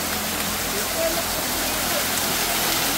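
A waterfall in Infanta, Quezon gives off a dense, constant roar of falling water that fills the space, with no breaks, heard up close.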